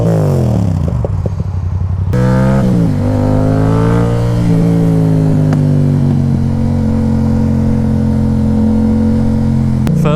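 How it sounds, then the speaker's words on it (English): Yamaha MT07 parallel-twin motorcycle engine starting up with a brief blip, then settling into a steady, loud, close idle with a deep rhythmic burble. "let's fire up. Listen to that idle."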